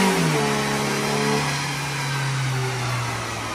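A 2014 VW MK6 Jetta S 2.0L engine revs on a dyno, a loud, steady droning roar whose pitch slides downward as the run winds down, with no voices over it.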